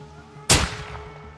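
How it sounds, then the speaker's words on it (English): A single sharp gunshot rings out in Call of Duty: Modern Warfare 2 (2022), loud and close, with a brief ringing tail over low background game ambience. "you heard a shot"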